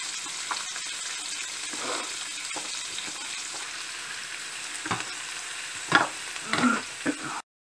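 Carrots and beans stir-frying in a hot pan for hakka noodles, with a continuous hiss of sizzling and a few louder scrapes and tosses near the end.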